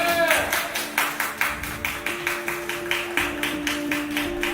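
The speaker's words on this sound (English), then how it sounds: "A hand of applause." Audience applause at a trans beauty pageant grand final: steady, rhythmic clapping in even beats over a sustained tonal background, moderately loud and continuous.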